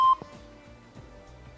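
A single short, bright electronic beep opens the moment on the TV quiz show Последният печели. It is followed by quiet low background tones.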